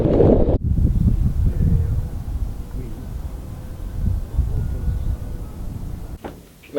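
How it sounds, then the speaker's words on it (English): Strong wind buffets a boat in a loud, low, roaring rush of gusts close to the microphone, with a short knock near the start and a lull at the end. "The tomato plants are copping a flogging in this wind."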